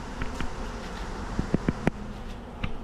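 A swarm of honeybees moving from a bucket into a hive box, a low, steady buzz of many wings with several close, louder passes of single bees flying near.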